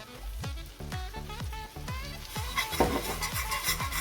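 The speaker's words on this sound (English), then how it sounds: "And we're gonna cook nicely the flour until it starts getting brown." Flour cooking in a pan with butter for a mac and cheese roux, giving a steady sizzle with repeated scraping stir strokes that grow livelier toward the end, close and without talk.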